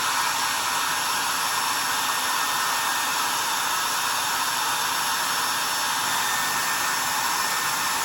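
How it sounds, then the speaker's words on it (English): Hair dryer on high heat warming a decal on a plastic 1/48 F-4G scale model, a loud constant whooshing blow with a steady motor hum throughout, no voices. "I'm going to take my hairdryer, and I've got it on high heat"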